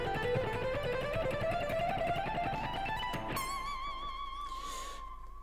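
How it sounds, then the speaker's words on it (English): A guitar scalar run climbs steadily, three notes per position, with the pinky sliding up into each next position, ending on a sustained ringing high note that decays alone; quiet and close. "You could also slide into each next position from the previous one."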